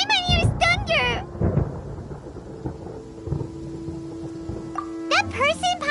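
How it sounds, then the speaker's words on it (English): Low thunder rumbles through a stormy scene in the video game Genshin Impact, a deep rolling growl set between bursts of a character's voice, with faint rain-like crackle underneath. "Paimon hears thunder!"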